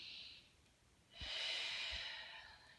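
Slow breathing from a person lying back in a chest-opening pose, a faint exhale followed by a longer, louder airy breath, close and alone with no talking.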